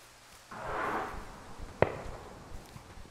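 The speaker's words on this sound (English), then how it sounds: "Well, we hear the fireworks." Fireworks in the video game Firewatch, heard as a muffled distant boom followed by one sharp crack, set against a quiet wooded outdoor backdrop.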